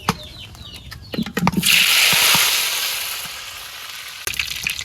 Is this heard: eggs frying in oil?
yes